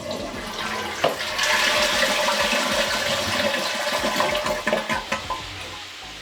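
A toilet is flushed to empty its tank, giving a loud, steady rush of draining water close by that swirls on for several seconds and then gurgles and tapers, with no talking.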